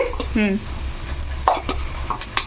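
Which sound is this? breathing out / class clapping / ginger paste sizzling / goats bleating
ginger paste sizzling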